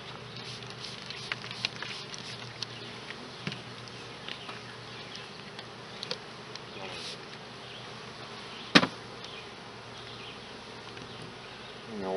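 A steady, close hum of many bees buzzing at a hive, with faint taps and one brief sharp click partway through.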